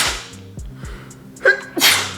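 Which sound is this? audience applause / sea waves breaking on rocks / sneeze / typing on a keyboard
sneeze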